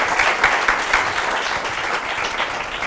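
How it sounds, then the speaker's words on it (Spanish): Audience applause at a Spanish-language start-up talk, dense, loud clapping filling the whole stretch evenly. "vamos a darle un aplauso."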